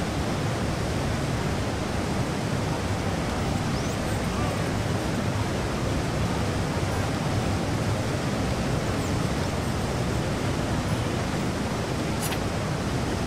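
Loud rushing water from a fountain in the video game Pirates of the Burning Sea pours continuously, a dense, even roar close by, steady from start to finish.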